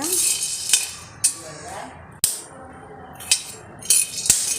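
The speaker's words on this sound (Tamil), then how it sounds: "வெடிக்கிற சத்தம் கேட்குது" Sharp, scattered pops and crackles of beans dry roasting sound over a soft hiss in a pan, about one every second, close and fairly loud.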